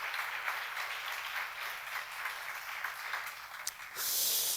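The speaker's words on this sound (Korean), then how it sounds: "박수를 하나 주세요." A church congregation at a Korean seminar applauds together. The clapping sounds soft and somewhat distant as a steady wash, and it swells into a brighter, louder burst at the very end.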